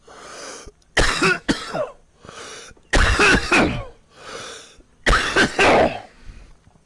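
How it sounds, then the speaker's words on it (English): Three bursts of harsh, rattling coughs and throat clearing, close and loud, with short breathy pauses between them and no talking. "I'm sorry about the coughing in y'all's ear."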